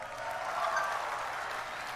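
Audience applause at BlizzCon 2019, a dense, steady wash of clapping from a large crowd, sustained and fairly loud across the whole moment with no break.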